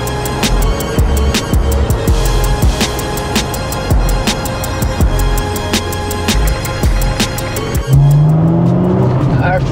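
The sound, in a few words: supercharged Acura NSX driving on test drive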